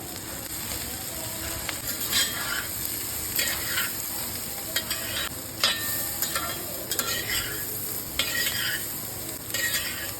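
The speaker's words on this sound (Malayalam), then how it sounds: "ഇനി നമുക്ക് കുറച്ച് വെളിച്ചെണ്ണ വെച്ച് കൊടുക്കാം" Bitter gourd fries in coconut oil with a continuous sizzle, while a spoon stirs and scrapes the pan in repeated bursts every second or so, close up and without talking.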